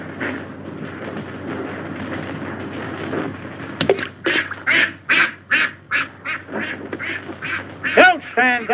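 Ducks quack in a rapid run of short, loud calls near a golf course, following a stretch of murmured talk and a sharp crack.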